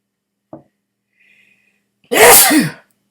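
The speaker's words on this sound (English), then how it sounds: "Maybe it's the cold water making me sneeze." A single loud, close sneeze bursts out after a brief sniff and near silence, ending with a short vocal trailing sound.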